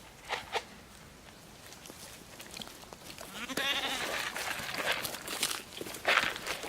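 Goats bleat nearby in a farm pen amid shuffling hooves and rustling, several wavering calls, some louder toward the end, with occasional movement noises.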